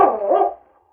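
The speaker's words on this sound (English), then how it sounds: "King barked an invitation to play" A dog gives a single loud, close bark with a short tonal tail in a radio drama set in the Yukon, with no talk.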